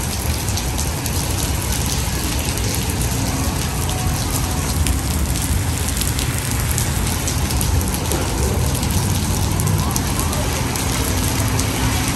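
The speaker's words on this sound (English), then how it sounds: "because it's raining" Steady rain pours throughout, a dense continuous hiss with a low rumble beneath, like traffic or heavy drops on pavement nearby.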